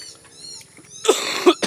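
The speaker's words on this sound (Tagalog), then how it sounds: "Pasensya na guys kasi may ubo ako." Two short, harsh coughs burst out in close succession after a quiet moment, near and fairly loud.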